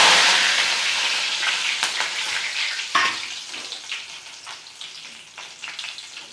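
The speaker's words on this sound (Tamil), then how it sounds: "இப்போ ஃபைனலாக நம்ம கருவேப்பிலை பொரிச்சு போட்டுக்கலாங்க." Curry leaves frying in hot oil for banana flower pakoda give a bright, crackling sizzle that starts loud and slowly fades, with a few sharp pops and spits scattered through it and no voices.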